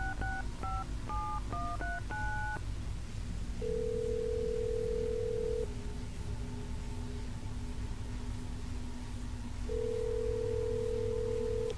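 Phone tones in the video game Assassin's Creed Brotherhood: a quick run of dialing beeps, then two long steady ringing tones separated by a pause, alone over faint background hum.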